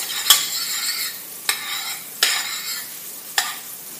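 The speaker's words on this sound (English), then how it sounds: "I want to take another pot and add my butter to that. Let it melt." Butter melting in a pot, a gentle continuous sizzle with four metallic clinks of a utensil against the pot at uneven intervals.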